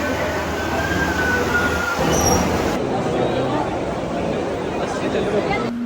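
Mumbai local train ride toward Siddhivinayak temple, a loud steady rumble inside the coach with a thin wheel squeal early on, and passengers chattering in the background throughout.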